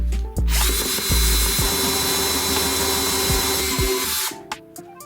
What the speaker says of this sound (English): I'll need to use the 3/4-inch hole saw to make our new grommet fit.